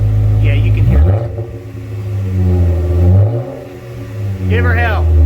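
A 2016 Jeep Wrangler Rubicon fitted with a Flowmaster Outlaw 409S dual exhaust starts up and idles with a deep, loud rumble, rising briefly in pitch twice. Voices talk over the engine.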